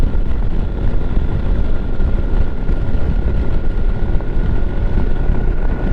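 A LIFAN KPX 250 dual-sport motorcycle cruises along, its engine drone buried in loud, continuous wind roar buffeting the helmet microphone, with no talking.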